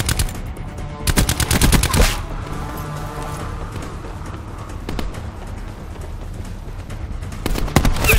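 Automatic gunfire in the video game Call of Duty: Black Ops 4 comes as loud rapid bursts at the start and end, with scattered shots and a busy rumble of combat in between.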